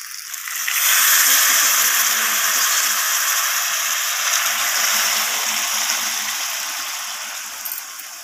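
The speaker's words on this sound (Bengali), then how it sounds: "আগের থেকে আমি কিছুটা গরম জল করে রেখেছিলাম, তো সেই গরম জলটা এখানে আমি অ্যাড করে দেব।" Hot water poured into potatoes cooking in oil, setting off a loud, rushing hiss and sizzle that swells quickly and then gradually fades over several seconds.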